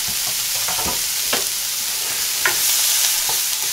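Chopped onion frying in butter in a hot pan, with a steady loud sizzle and occasional stirring scrapes throughout, no talking.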